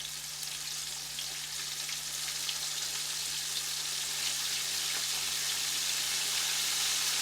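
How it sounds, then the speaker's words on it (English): Quail wings and legs fry in hot grease, giving a continuous close sizzle with fine crackling and popping that holds steady and grows slightly louder, with no voices. "I'm assuming that the camera's picking up the way they sizzle and the sound of it."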